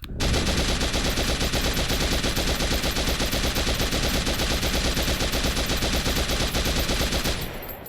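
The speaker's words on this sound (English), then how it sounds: "So we just insert a magazine, pull the bolt, chamber around, aim, and fire." A belt-fed, closed-bolt rifle in the VR game H3VR fires one long, loud, continuous automatic burst that lasts nearly eight seconds and then stops abruptly, with nothing heard alongside it.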